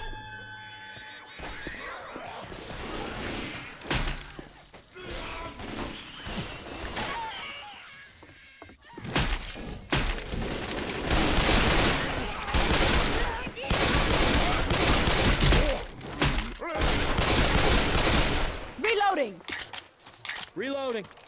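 Bursts of rapid gunfire cut down zombies in a swamp level of Left 4 Dead 2, loud and repeated in clusters, with growls, screams and a voice talking over the action.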